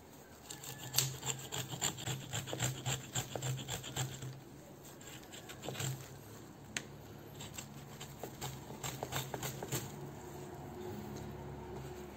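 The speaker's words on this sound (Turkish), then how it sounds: "gördüğünüz gibi yan dallara zarar vermeden tam ortadaki dalı küçük mini testereyle rahatlıkla aldık" A small hand-held saw made from a jigsaw blade cuts through a potted mandarin branch with quick, rasping back-and-forth strokes, close and fairly quiet, in bursts with short pauses.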